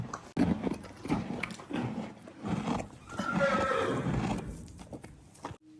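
A young, untrained mare neighs and whinnies close by, with snorts, hoof clip-clops and chewing noises around the call, and no talk over it.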